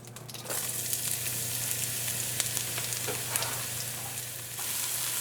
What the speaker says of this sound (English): I'm going to drop in all of the chopped vegetables that we just chopped up